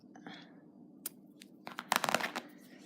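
Scissors snipping yarn while finishing a crocheted amigurumi koala, a few quiet close crisp cuts and faint rustling at the end, preceded by soft handling noise.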